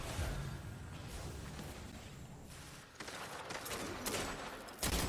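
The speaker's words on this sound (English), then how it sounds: "Oh, there's the slide shotgun." A slide shotgun fires in a Destiny 2 Crucible match, several sharp blasts heard among rapid gunfire and whooshing game effects, moderately loud and dense.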